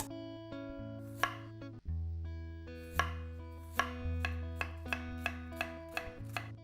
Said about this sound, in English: I'm going to finely slice the cabbage.